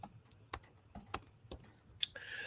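Typing on a computer keyboard, close and quiet: a few sharp, irregularly spaced key clicks over about two seconds, finishing with one louder clack.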